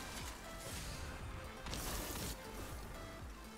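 Stasis crystals shattering during Destiny 2 gameplay, with bursts of crashing, glassy breakage over a dense layer of game effects that swell louder midway through.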